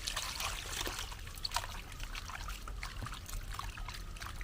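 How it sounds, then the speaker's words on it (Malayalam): Water pours into a container, a continuous close trickle and splash running steadily throughout. "വെള്ളം ഒഴിക്കട്ടെ അതിനകത്ത്."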